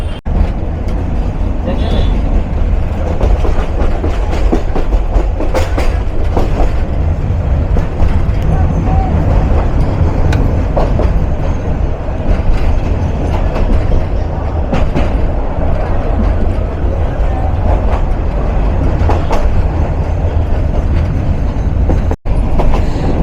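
A commuter train bound for the Dewanganj railway yard near Jamalpur runs loudly on its rails, giving a steady rumble with rattling clatter all through, while voices talk over it.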